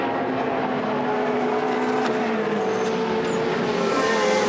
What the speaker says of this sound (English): Cordoni through the final corner and out onto the start-finish straight again with Misland right behind him